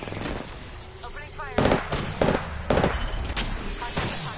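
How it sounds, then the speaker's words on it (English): Gunfire in the video game Apex Legends: several fairly close gunshot bursts spaced through a busy in-game soundscape, with character voice lines heard beneath and between them. "Opening fire."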